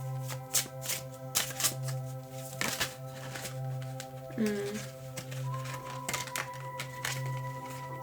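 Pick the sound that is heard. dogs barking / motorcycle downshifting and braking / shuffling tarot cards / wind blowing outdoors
shuffling tarot cards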